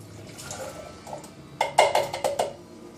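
Canned garbanzo beans tumble from a can into a bowl, a run of close, wet splashy plops and sloshes coming in quick bursts over a second or so after a quieter stretch.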